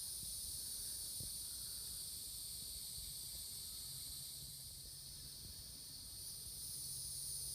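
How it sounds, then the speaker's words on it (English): Cicadas drone steadily at dusk on a farm in Courtland, Virginia, a loud, even insect hiss that holds through the whole stretch without pause, with only faint low sounds beneath it and no talking. "That noise just got really loud, didn't it? That's a cicada."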